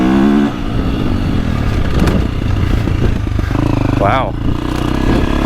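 Racing dirt bike, a 2025 Honda CRF450R or a KTM 450 Factory Edition or 350XCF, held at max throttle on dry hard pack, its loud close engine drone rising and falling steadily under the rider's voice with a brief exclamation.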